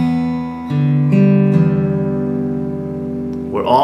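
A guitar fingerpicking pattern played slowly, with a few plucked notes ringing out and sustaining into a steady, even chord tone, heard alone and close.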